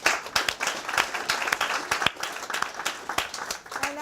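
An audience breaks into applause, a dense, steady patter of many hands clapping with sharp individual claps standing out, sustained for a few seconds at a moderate distance.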